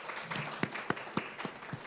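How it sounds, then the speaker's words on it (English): A small group claps for a panel, with several distinct hand claps in a loose rhythm over quiet room noise. "I just want to give a round of applause to our amazing panelists"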